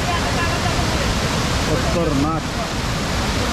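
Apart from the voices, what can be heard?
rushing dam water, Solanpada Dam Karjat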